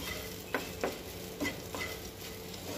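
Bitter gourd slices frying in a pan, a soft steady sizzle with several sharp stirring clatters of a utensil spaced about half a second apart, close and moderately quiet, no voices.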